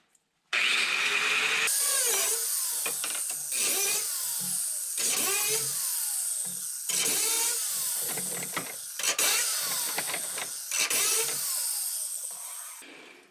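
A cutting tool works under a car, slicing through the factory fuel lines in long rasping, grinding passes broken by short pauses, loud and close with no voices.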